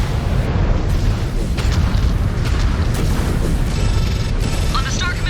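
In MechWarrior 5: Clans, a missile detonation rumbles as a loud, sustained boom under game cockpit voice callouts, with constant low roar and crackle throughout.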